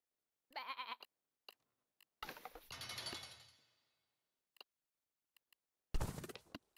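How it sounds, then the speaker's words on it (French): Video game goats bleating in short separate bursts, each a shaky, quavering cry, with quiet clicks and gaps between and no talking. "Vous avez trouvé des chèvres."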